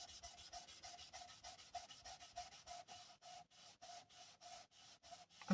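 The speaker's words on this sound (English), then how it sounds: "So I'm just going to burnish that glue onto that." Paper card for a football-themed fold card being burnished to press the glue down, a soft, quiet, rapid rubbing scratch repeating in steady strokes throughout.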